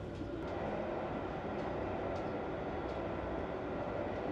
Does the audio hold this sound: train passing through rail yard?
yes